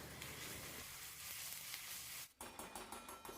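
Ground masala and crushed garlic sauté in hot oil for a spicy village-style mutton curry. A loud, steady sizzle runs throughout, with a short break near the end before the frying resumes.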